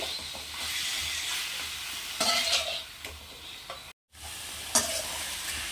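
Marinated chicken fries in a pan over a medium-low flame, giving a continuous close sizzle with occasional stirring scrapes and a brief break in the middle.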